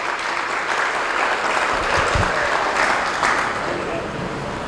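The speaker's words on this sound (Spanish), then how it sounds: "Vamos a darles un aplauso porque nos alegra" Dense audience applause at an evening talk in a school hall, a continuous loud wash of clapping that holds steady the whole time with little variation.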